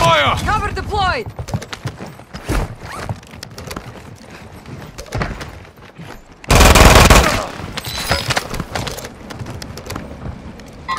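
Gunfire in Call of Duty Modern Warfare II, with bursts of automatic fire and single shots scattered through the clip and a loud heavy volley in the middle, mixed with radio callouts and game voices.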